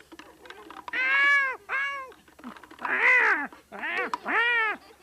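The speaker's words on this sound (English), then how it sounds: "You're force feeding the cat." A cat being force fed gives several loud, drawn-out meows in close succession, with short gaps between the cries.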